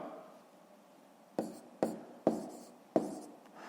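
Numbers written by hand for a fifth-grade column addition problem make four crisp strokes after a quiet start, each a sharp tap followed by a brief scratch, close and soft, with no voices.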